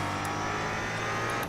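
A race car engine in the racing game Grid Autosport drones loudly and steadily from start to end, a continuous close high-revving roar with no talk.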